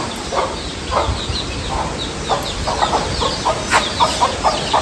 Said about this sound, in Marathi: इकडे कोंबड्या आहेत